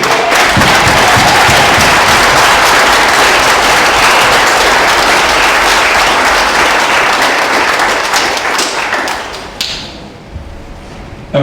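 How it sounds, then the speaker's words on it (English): Loud, sustained applause and cheering from a room full of sailing crews at a national championship regatta prize presentation, dense and steady for about nine seconds before thinning out near the end. "Can I get a massive round of applause for all the crews in this room at the moment, please?"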